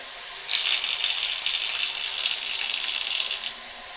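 Water gushes from a tap in a mountain cabin once the boiler is switched on, a steady hissing flow that starts abruptly, runs for about three seconds and then cuts off.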